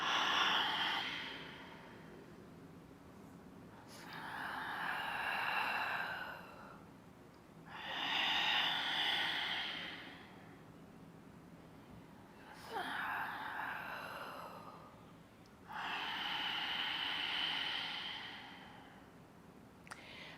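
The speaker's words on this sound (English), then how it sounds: "the sound of the breath" Slow, deep human breaths, each lasting a few seconds, alternating inhale and exhale with brief pauses between; close and airy with no talking.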